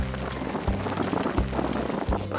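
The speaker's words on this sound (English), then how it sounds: "It's very windy, it's raining, and my tent is leaking." Heavy rain drums steadily on a leaking tent on the moors with gusty wind noise, dense and loud, punctuated by periodic flapping thumps.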